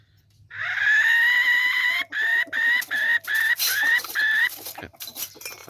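A blown two-ball type jungle fowl decoy whistle: a long crowing note, then a run of short, evenly spaced chirps, loud and close.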